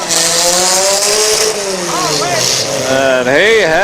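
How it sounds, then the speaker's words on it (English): Demolition derby car engine at the Athens County derby sounding tired, a steady broad mechanical drone running under loud announcer talk over a public address, with some pitch swells near the end. "Dustin Buckley's engine sounds like she's getting a little bit tired"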